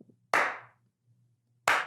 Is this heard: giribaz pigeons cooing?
no